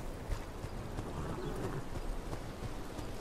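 Horse hooves galloping in the Game of Thrones Kingsroad video game, a soft steady clip-clop rhythm that stays faint under a dense wash of ambient game noise.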